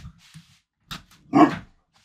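A dog gives a single short, close bark, preceded by a soft low grunt and faint breathy noises in an otherwise quiet setting.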